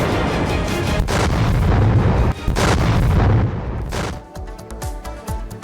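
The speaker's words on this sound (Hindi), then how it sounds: "तो देखिए, लगातार बमबारी जारी है" Bombardment and artillery fire in a war zone, a dense roar of heavy explosions and gunfire booming continuously with a brief dip near the middle, then easing into quieter scattered thuds at the end.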